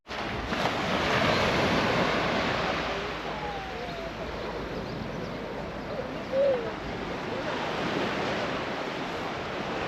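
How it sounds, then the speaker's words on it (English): Ocean waves wash onto a small Algarve beach tucked among rocks, a steady broad surf hiss with wind, swelling and easing with no talk over it. "Quite the beach here, nestled amongst these rocks."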